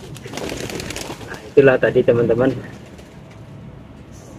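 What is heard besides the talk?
kolong pigeons cooing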